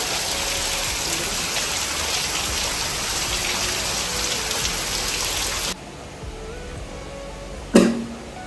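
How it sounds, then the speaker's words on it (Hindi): Steady rain falls hard and close, a dense even hiss on surfaces that cuts off abruptly partway through, leaving a quieter background broken by a single brief knock. "बारिश भी हो रहा है"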